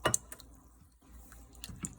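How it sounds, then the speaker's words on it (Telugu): Water poured from a glass into wheat dosa batter, a short splashy pour with drips and wet sloshing, close and quiet with no voices. "కొంచెం వాటర్ కూడా, ఒక గ్లాస్ వాటర్ కూడా పోసుకొని"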